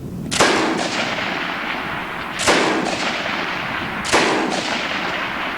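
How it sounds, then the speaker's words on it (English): Semi-automatic guns firing at an outdoor fun gun weekend shooting event: three loud, sharp shots spaced about two seconds apart, each trailing into a short echoing decay, with no talking. "let's close out the program today with a little shooting from our Fun Gun Weekend"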